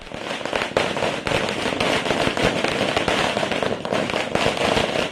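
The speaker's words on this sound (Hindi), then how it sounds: "पार्टी कार्यकर्ताओं ने आतिशबाजी कर जीत का जश्न मनाया" Fireworks and firecrackers set off by BJP and JDU party workers celebrating an election victory in Patna, Bihar: a dense, continuous barrage of loud crackling bangs with sharper individual pops scattered throughout.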